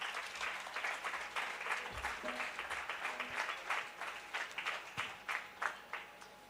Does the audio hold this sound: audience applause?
yes